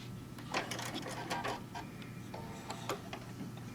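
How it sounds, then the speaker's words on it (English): A sewing machine stitches a tote bag panel at close range, giving off quiet, uneven ticking and tapping in short clusters over a low steady hum. "we're going to sew at about 1/2 inch"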